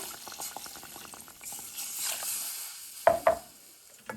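Water with tamarind and dry masalas heats in a pot toward a boil, giving a soft bubbling hiss, then two sharp clatters near the end as a utensil knocks the pan.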